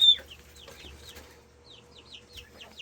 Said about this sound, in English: We still have these guys out here in this outdoor coop, the Copper Morans and older